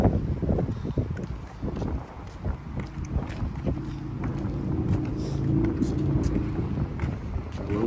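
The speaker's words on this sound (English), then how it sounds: "Good exercise on the cold, windy day. Windy, windy, windy." Gusty wind on a cold day buffets the microphone on a sidewalk with low rumbling roar, rising and falling throughout, with faint traffic-like noise underneath.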